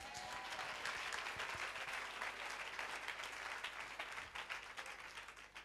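A church congregation applauds to acclaim the Lord, with steady, dense clapping filling the room throughout and a faint murmur of voices underneath.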